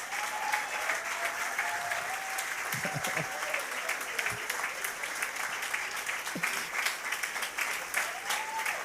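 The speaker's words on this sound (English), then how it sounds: "everybody, including the guests, will stand up and give our founders a round of applause" A standing audience of fellowship founders, guests and members applauds in a hall at a program launch, with dense, steady clapping holding the whole stretch and scattered voices and a faint whistle-like tone mixed in.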